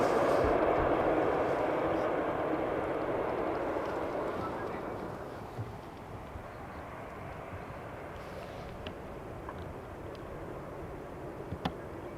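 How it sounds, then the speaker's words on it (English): A KLM Embraer 190 airliner arriving at Amsterdam Schiphol on runway 18R. A broad jet roar is loudest at first and then steadily fades and settles into a low rumble. "Embraer 190 coming in from London Heathrow"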